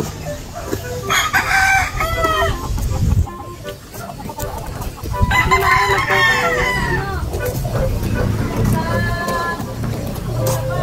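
A rooster crows loudly twice nearby while hens cluck around it, with people talking in the background.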